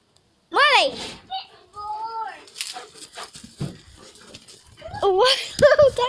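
A husky-type dog whimpers and yips in high, rising cries near at hand during play, with panting between them and people talking and exclaiming around it.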